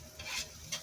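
Vegetables sautéing in a pan before a sticky rice dish. A short stirring scrape and sizzle comes in two quick bursts, close and moderately loud.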